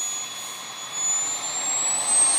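A model aircraft jet turbine whines loudly and steadily as it throttles up before takeoff at a model aviation meet, its high pitch climbing gradually.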